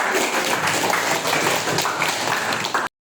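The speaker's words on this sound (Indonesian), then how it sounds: "tepuk tangan untuk Pak" A classroom audience at a history lesson applauds, a dense, even wash of clapping that holds steady for about three seconds and then cuts off abruptly.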